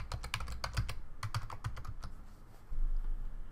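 Password being typed on a computer keyboard: quick bursts of close, crisp key clicks in irregular runs, pausing briefly before a final few taps, with no speech.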